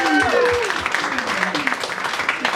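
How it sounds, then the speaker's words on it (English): Crowd applause at a stand-up comedy show, a burst of clapping mixed with some cheering, fairly loud and sustained, with a voice briefly audible at the start. "Yeah, clap it up for Make-A-Wish."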